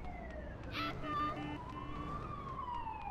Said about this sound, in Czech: To je sanitka.